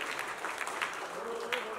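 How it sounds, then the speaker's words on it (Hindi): Audience applause at a film cast and crew event in front of the media, a broad steady patter of many hands clapping throughout, fairly distant and even, with faint voices mixed in. "मैं चाहूंगा जोरदार तालियां हो जाए"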